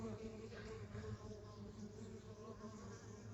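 A low, steady buzzing drone of many honey bees at the hive, close and continuous, humming without pause.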